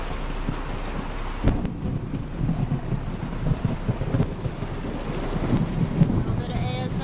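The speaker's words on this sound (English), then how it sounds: "here comes some good thunder" Thunder rumbles low and rolling through a rainstorm beside a lake, with steady rain patter, a sharp crack near the start, wind buffeting the microphone and someone speaking close by.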